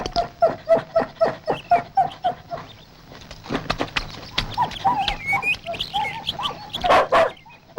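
Dogs bark in a fast, steady run of sharp, loud barks. Later the barks become ragged yelps and whines over a rough, scuffling background, in a comedic scene with no voices heard.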